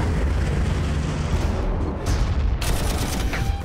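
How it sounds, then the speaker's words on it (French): A large explosion from the Nova Cannon main tank in the Warhammer 40k Armageddon strategy game, a dense booming roar that holds loud throughout and swells into a fresh blast near the end. "ça fait une grosse explosion, hein, le tank principal, là, le Nova Canon"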